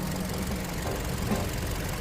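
A 2014 LPG (LPI) car engine with about 210,000 km and no oil leaks runs at a steady idle, a continuous close, moderately loud rumble with no talking over it.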